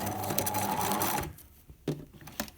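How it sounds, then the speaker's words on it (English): A sewing machine stitches a fabric pencil case in a rapid, steady buzzing run that stops abruptly partway through, followed by a few faint clicks and handling noises. "turn the corner a little bit and stop sewing just before the stitching"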